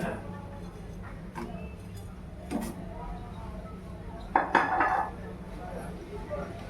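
Maggi noodles being stirred into a pot of hot salted water on the stove, with a few light utensil clinks and scrapes against the pot over a steady low kitchen hum.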